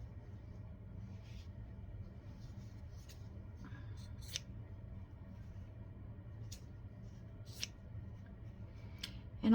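Scissors snip through fabric for a Holly Hobbie journal cover, a run of crisp, close cutting crunches at an uneven pace over a low steady background rumble, no speech.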